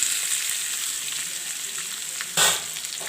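Ridge gourd dropped into hot oil with a tempering of mustard seeds, cumin, curry leaves and dried red chillies, giving a steady close sizzle that flares into a louder burst of frying near the end.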